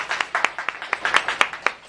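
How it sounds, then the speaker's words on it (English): Audience applause for a speaker at an NAACP environmental justice event, a brief burst of scattered hand claps, fairly close and moderately loud, with no voices over it. "So if you please give him a round of applause"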